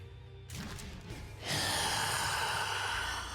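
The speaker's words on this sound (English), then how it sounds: "Just breathing now." Breathy sighs and gasps from a League of Legends character voice line for Fiddlesticks, a soft exhale first, then a louder, sustained rasping breath that fills the rest of the moment.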